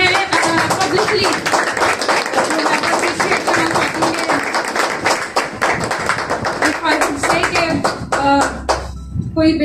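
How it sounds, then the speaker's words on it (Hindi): Applause from a congregation at a Hindi-Urdu church sermon, offered in encouragement for the preacher's husband: dense, continuous clapping from many hands, loud and close, tapering slightly near the end. "मैं ज़रूर चाहूँगी कि आप सब मिलकर मेरे हस्बैंड के लिए इंकरेजमेंट की तालियां बजाएं"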